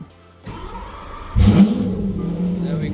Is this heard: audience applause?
no